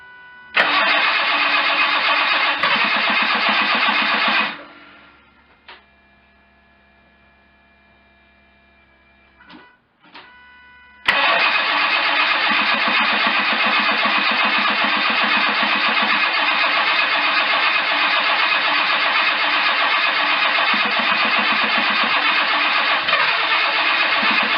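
Engine of a 1987 Jaguar car running roughly on its first start in four years, a loud steady drone that cuts out for several seconds with a few brief sputters, then fires back up and runs continuously.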